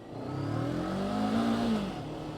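A Voge 525RR motorcycle's engine revs and climbs in pitch, holding a rising drone before easing off, loud and close with no talking.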